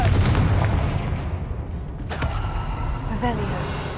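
A Confringo fire spell cast in Hogwarts Legacy bursts with a loud, sharp blast around the two-second mark, followed by creaking, rumbling game effects over a steady low background.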